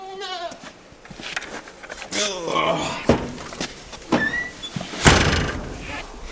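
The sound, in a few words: goat bleating on a farm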